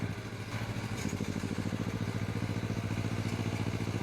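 A T16 tractor engine runs steadily with a low, rhythmic mechanical throb and light clatter, close and constant for about four seconds with no talk.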